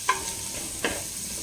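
Cauliflower and onion sauté in a pan over high heat, with two brief scraping stirs over a soft, steady sizzle and no speech.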